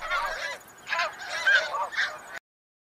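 Snow geese honking, a series of loud nasal calls in bursts that overlap in a flock, with a brief lull before the final honks; close and clear with no talk.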